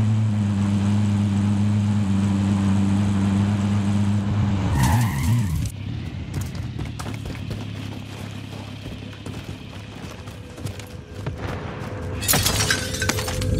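A car in Call of Duty Modern Warfare drives with a steady low engine drone, then skids with a crunching shatter midway, followed by rumbling movement and a sharp burst of noise near the end.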